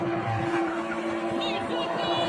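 A car spins and skids at a South African car-spinning event, its engine roaring steadily with tire squeal and crowd noise throughout, loud and continuous.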